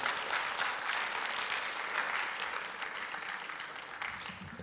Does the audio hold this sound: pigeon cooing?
no